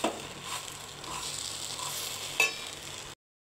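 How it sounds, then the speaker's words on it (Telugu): A bread mixture with tomato ketchup being stirred in a pan on the stove: a continuous soft scraping and light sizzle, with one brief sharper utensil clink, then sudden silence. "ఇలా టమాటో కచప్ వేసుకొని బాగా కలుపుకోవాలి"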